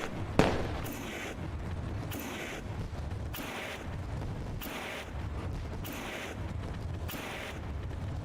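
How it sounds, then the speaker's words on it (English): Fireworks go off at Eldora Speedway after a sprint car race, with a sharp early bang followed by a steady series of distant booming bursts at regular intervals over constant wind noise. "Fireworks fly here."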